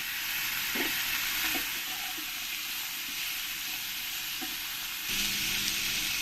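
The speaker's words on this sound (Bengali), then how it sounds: "আমি ইঁচড়গুলো একসঙ্গে দিয়ে আমি ভালো করে ফ্রাই করে নেব" Potatoes and jackfruit fry in a pan with a steady, loud sizzle, broken by a few soft stirring clinks; the hiss swells again near the end.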